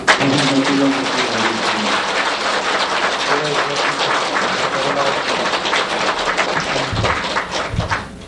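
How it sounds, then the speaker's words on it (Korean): An audience at a Buddhist temple dharma assembly gives sustained, dense applause, even and steady from start to finish, with a few low thumps near the end. "다시 한번 뜨거운 박수로"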